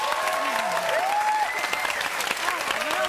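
An audience applauds a singer-songwriter at a festive show, clapping and crowd noise running throughout. A sliding tone and a speaking voice sit over the applause.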